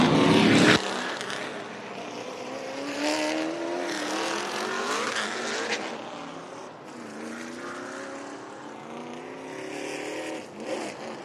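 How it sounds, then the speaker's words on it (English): Race car engine in the pre-race lineup at a stock car event, roaring loud and steady with a rising harmonic whine as it fires up, other engines rumbling nearby. "Cody King's 14 car fires up in the lineup"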